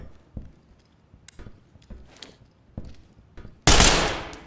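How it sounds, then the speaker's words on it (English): Gunfire in the tactical shooter Ready Or Not: a few sharp, spaced shots early on, then a loud sustained burst of automatic fire near the end that fades out. "Watch where you're shooting that damn thing."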